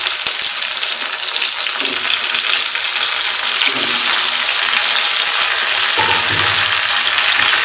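Washed quail pieces added to hot oil after onions, frying with a loud, steady hiss and crackle that holds throughout, with faint stirring clinks from the pan and no speech.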